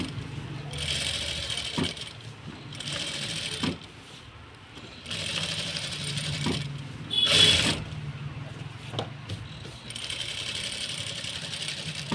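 Sewing machine stitching an embroidered blouse, running in several short bursts with pauses between, close and moderately loud, someone speaking over it at times.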